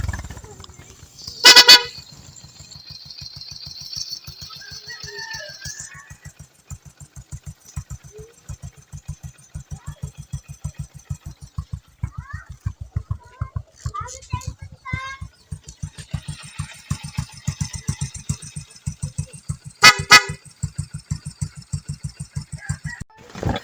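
Kawasaki Bajaj CT 125 motorcycle engine idling just after an oil change, a steady low putter running throughout, with a couple of sharp loud horn-like blasts and scattered clanks over it.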